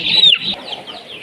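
Country chickens and a fighting rooster give a loud, close cluck that trails off into softer clucking.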